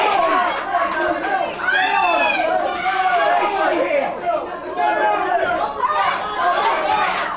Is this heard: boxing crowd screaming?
yes